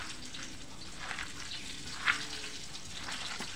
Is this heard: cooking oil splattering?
yes